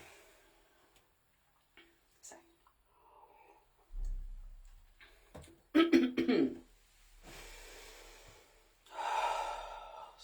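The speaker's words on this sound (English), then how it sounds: "Excuse me, have a little cough." A person clears their throat and coughs a few times in a quiet room, with short sharp bursts and breaths between them, close to the microphone.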